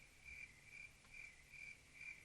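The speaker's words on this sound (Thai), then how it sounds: "มีเสียงจิ้งหรีดด้วยวะ" Faint cricket chirps in a Roblox horror elevator game, a regular pulsing trill repeating about every half second over a low ambient hum, with no voices.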